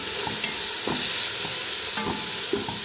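Two ripe chopped tomatoes sauté in a pan for mushroom biryani, a steady close sizzle with soft scraping stirs repeating every second or so, no voices.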